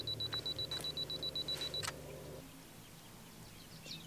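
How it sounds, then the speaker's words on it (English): A camera on a two-second self-timer beeps rapidly about a dozen times, then the shutter fires with a soft mechanical click, close and clear, followed by quiet outdoor background noise. "I just want to make sure I've got a 2 second timer on here"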